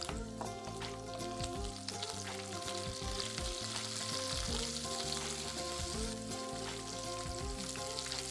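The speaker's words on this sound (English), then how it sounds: "to this I'm going to add a handful of curry leaves" Green chillies, garlic and a handful of curry leaves sizzle and crackle loudly in hot oil for a village-style fish curry, a dense continuous frying hiss with popping bursts throughout and no speech.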